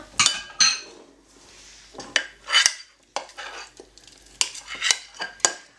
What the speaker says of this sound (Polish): Całkiem ostro Ci poszło to mieszanie.